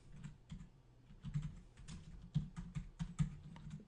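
Computer keyboard typing in quick irregular bursts of soft clicks and thumps, close by and moderately quiet, with no talking.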